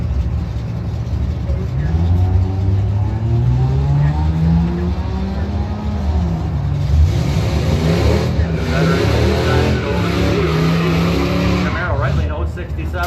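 Drag racing launch at a Chevrolet event, a 97 Camaro against a Cavalier, engines revving and rising in pitch as the cars pull away, loud and close, with an announcer talking over the roar.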